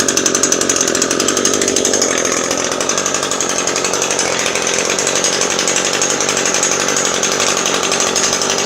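An Echo SRM 2320T string trimmer's small two-stroke engine idles close by, a loud, steady buzzing rattle that holds evenly throughout without speech.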